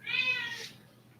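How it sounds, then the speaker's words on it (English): A cat meows in the background, one drawn-out, fairly high call that fades away over about a second, with no talking. "If you hear a cat in the background, then don't worry, she's just very vocal."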